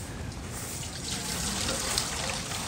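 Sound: pouring drinking water for a bearded dragon

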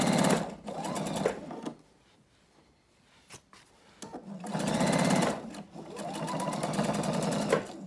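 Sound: sewing machine stitching denim quilt layers

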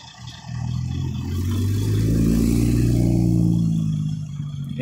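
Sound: 2017 Porsche 911 Turbo S engine and exhaust revving

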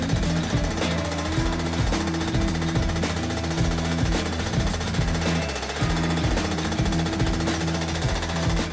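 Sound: machine hammers hammering a Sabian cymbal's profile

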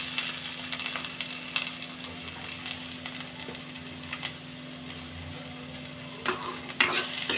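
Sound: onions frying and being stirred in a pan for peanut chutney

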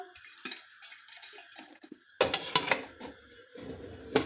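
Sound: closing pressure cooker lid

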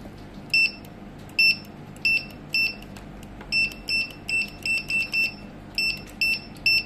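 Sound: Cino F790 barcode scanner beeping while scanning through plastic

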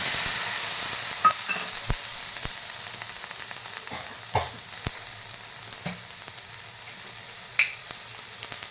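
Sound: tomatoes frying and stirred in pan for peanut chutney

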